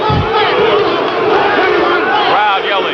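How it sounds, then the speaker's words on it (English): A packed boxing-arena crowd chants a fighter's name in a loud, rhythmic roar at a hometown bout, the voices blending into one sustained wall of sound. "Crowd yelling, LeDoux, LeDoux."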